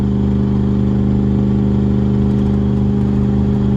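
An old truck with 392 gears, overdrive off, labors uphill with a loud steady engine drone and low rhythmic thrumming, close and unbroken throughout.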